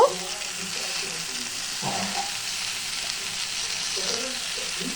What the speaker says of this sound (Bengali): একসাথে ভালো করে মিশিয়ে ভেজে নিলাম।